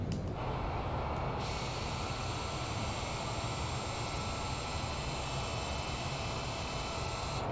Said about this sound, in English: And reverse thrusters.